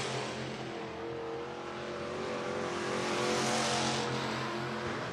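Race cars, including Ray Wheeler's number 74, run at All-Tech Raceway in Lake City, Florida, with a continuous loud engine roar that swells toward the middle and eases slightly at the end.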